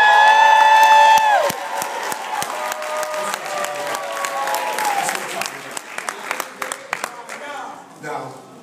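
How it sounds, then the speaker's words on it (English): Audience at an energy company's EmpowerU event standing and applauding, a dense burst of clapping and cheers that thins into scattered claps, with a voice over the start. "stand up and clap your hands"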